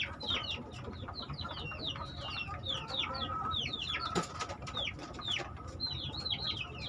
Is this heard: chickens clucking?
yes